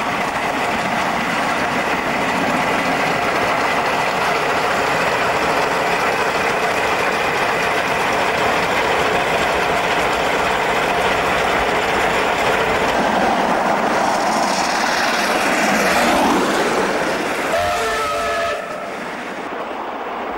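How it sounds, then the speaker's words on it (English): DB class steam locomotive hauling a freight train through a Western Australian junction, a loud sustained roar of the passing train with rumbling wheels, ending in a brief whistle and the sound dropping away. "DB class, on freight, clears the junction at Millenden before the pair return tender first off the old Midland Railway"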